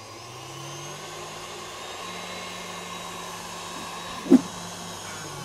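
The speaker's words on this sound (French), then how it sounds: "je vais accélérer le batteur pour maintenant incorporer de l'air et avoir quelque chose qui va vraiment prendre du volume" An electric mixer whips a batter of eggs and powders at full speed for a raspberry and lime bavarois: a steady, even motor whir with no talk, broken by one brief knock near the end.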